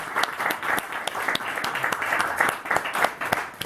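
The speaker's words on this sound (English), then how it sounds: "let's give a round of applause to Mother Vasanta" A temple audience at a Sunday feast and kirtan festival gives a round of applause: dense, lively clapping with sharp individual claps poking through, fairly close and continuous.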